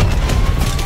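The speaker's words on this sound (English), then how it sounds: "Tempest firing." The Tempest weapon fires in the Black Ops 4 game on the Nuketown map, a loud, dense burst of booming shot energy filling the whole second with no talking.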